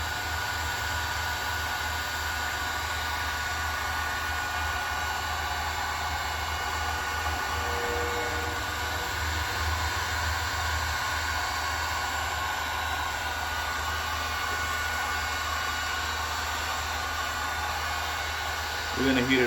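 A heat gun warming a Volvo VNL truck fuel line so a fitting can be pushed in, a steady close blowing hiss running continuously and evenly with no talk.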